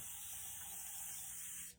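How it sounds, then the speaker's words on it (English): Cleaner is sprayed onto a board in one sustained hissing burst lasting under two seconds, close and alone, cutting off sharply at the end. "You're going to spray it and then go over it with the board eraser."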